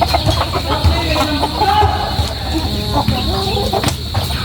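A flock of backyard chickens clucks steadily and loudly while being fed fresh papaya, with overlapping calls from several birds close by.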